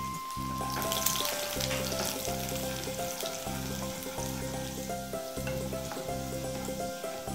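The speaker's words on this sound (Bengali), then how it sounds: "রসুনটাকে লালচে করে ভেজে নিচ্ছি।" Chopped garlic fries in hot oil, a loud, dense, continuous sizzle close up throughout, with a steady hum running underneath and no voices.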